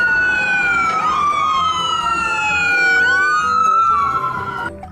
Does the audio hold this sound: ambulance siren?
yes